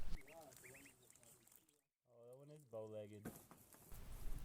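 Free-ranging ducklings playing in rain puddles on a farm give several faint quacks and peeps, a short burst early on and more after a brief silence, with outdoor background noise.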